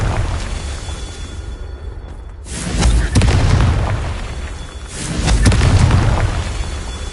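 Confringo blasting spell explosions in Hogwarts Legacy: after a quieter lead-in, a sudden loud boom erupts into rolling rumble, then a second heavy blast swells and sustains near the end.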